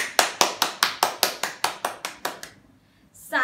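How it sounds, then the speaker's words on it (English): A group of children clap their hands in a fast, steady rhythm during a game of Simon Says, about a dozen sharp claps in a row, then a pause. "Simon says, clap your hands."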